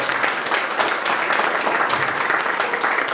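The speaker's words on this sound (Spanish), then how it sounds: "¿Cuánto le dan un aplauso al Señor?" Church congregation giving a round of applause during a sermon, a dense, steady wash of many hands clapping at moderate distance, continuous for a few seconds with no talking over it.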